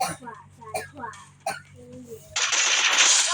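Gunfire in a shooting video game, as a loud sustained burst of rapid shots that cuts in after a stretch of mixed game sounds and speech.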